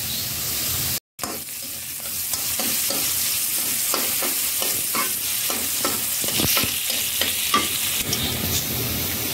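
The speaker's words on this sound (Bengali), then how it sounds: "এই জন্য আমি এটাকে আলাদা ভাজি করতেছি।" Leafy greens fry in oil in a pan along with green chilli, garlic and onion, giving a steady close sizzle broken by scrapes and taps of a spatula, with a short silent gap near the start.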